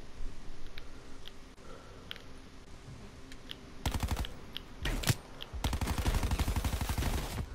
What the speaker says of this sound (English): that shotgun is deadly, yo